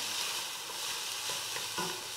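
Peppers fry and are stirred in a very hot pan, giving a steady close sizzle with soft scraping stirs and a few small pops throughout.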